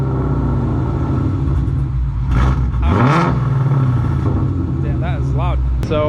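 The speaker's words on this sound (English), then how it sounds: "I just swapped the exhaust too, so it's super deep and loud, but it sounds really clean." Full bolt-on Ford Mustang running E85 with Kooks long tube headers and a fresh exhaust, a loud deep idle rumble building into a couple of sharp throttle blips that rise and fall, recorded close with voices heard faintly.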